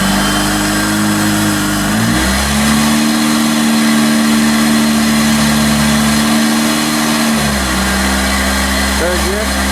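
A supercharged Honda CR-Z with a SPEC Stage 1 clutch accelerates hard in second gear, a loud, close engine note climbing steadily in pitch with a supercharger whine, heard from the cabin, with a brief dip at a shift.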